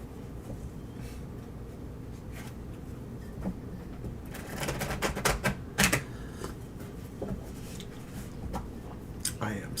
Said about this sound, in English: My turn to shuffle.